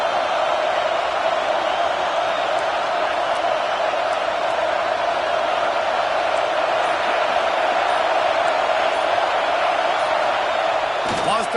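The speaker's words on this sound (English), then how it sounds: "Listen to this crowd just shaking the girders of this place" Stadium crowd roaring steadily throughout a football game on second down, a dense, loud, unbroken wall of noise under commentary.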